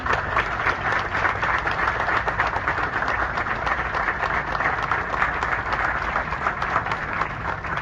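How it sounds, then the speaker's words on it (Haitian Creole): Audience at an official ceremony in Haiti clapping steadily for a guest, a dense, even wall of applause held at one level throughout. "Je vais vous demander d'applaudir avec moi encore une fois M. Léon qui est présent avec nous"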